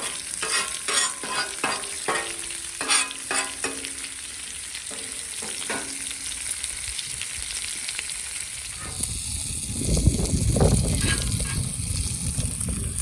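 Bacon sizzles on a Blackstone outdoor griddle, a steady hiss broken by clicking and scraping from utensils near the start and a louder crackling burst later on, with no voices.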